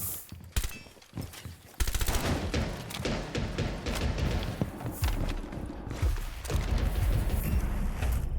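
Bursts of close, loud automatic gunfire and single shots crack in Rainbow Six Siege, with a short pause before sustained rapid fire dominates over rumbling game effects.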